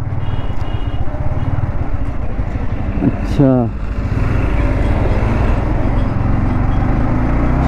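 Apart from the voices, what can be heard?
riding a motorbike through a Kolkata metro lane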